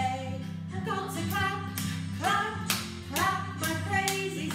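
Young children in an early-years school singing assembly clap along to a song, loud rhythmic handclaps in regular bursts over sung music and piano.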